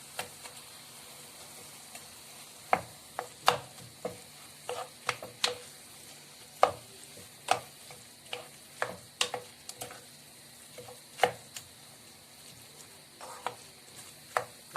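Minced meat stir-fried in a pan as filling for stuffed eggplant: quiet background sizzle broken by a long irregular run of sharp spatula taps and scrapes, close and distinct.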